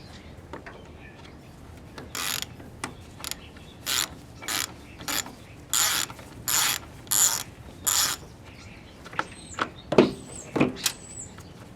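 A ratchet wrench backs out T15 Torx bolts on a Jeep Cherokee part, giving quick bursts of rapid clicking in short repeated strokes, close and distinct, with small metallic clanks and handling noise between strokes.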